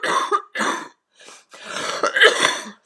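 A person coughs and clears their throat in a series of harsh, close bursts with short pauses between them, and no speech.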